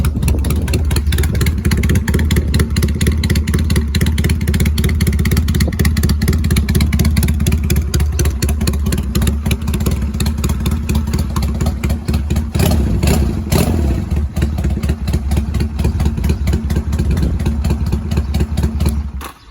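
A Honda 250 motorcycle engine runs steadily and loudly up close, with a constant low throb and small swells that hint at light revving throughout.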